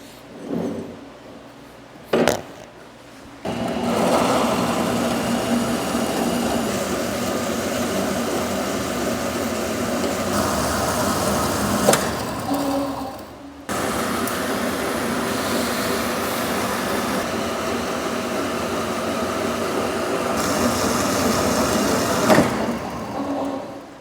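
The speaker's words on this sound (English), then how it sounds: "let's get that in the bandsaw, trim it down to size" A bandsaw trims excess metal bar stock to size in a machine shop, a loud continuous mechanical whir with a brief stop and restart partway through, no voices.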